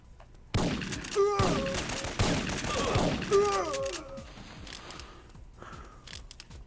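Shotgun fire and combat noise in the PlayStation game Syphon Filter: a dense run of loud blasts and clattering impacts over the first few seconds with pitched electronic tones mixed in, easing off to quieter sounds afterward.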